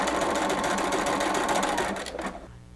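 Sewing machine stitching with Star thread, a rapid even mechanical whir of needle strokes close by, loud and steady before slowing and fading at the end.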